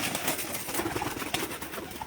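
Pigeons perched on a rooftop loft coo softly and steadily in a low, murmuring chorus, with faint rustling and wing movement around them and no talk over it.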